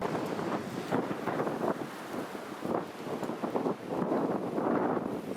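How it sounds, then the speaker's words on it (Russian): Strong, wild wind in the mountains buffets the microphone, giving a continuous loud roar with gusty surges and no speech. "В затишках попрятались от этого дикого ветра."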